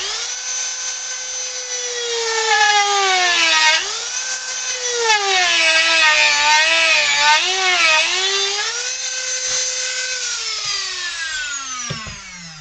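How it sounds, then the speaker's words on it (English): A Dremel rotary tool carving a wooden figure, a loud continuous high whine whose pitch dips and rises as it bites into the wood before winding down near the end. "we'll use our Dremel"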